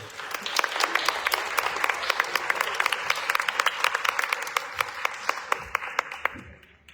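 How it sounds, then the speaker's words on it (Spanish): An audience applauds a moderator being introduced at a gathering of a house-museum network, steady sustained clapping from many hands with sharper individual claps standing out, continuing throughout. "para quien pido un fuerte aplauso"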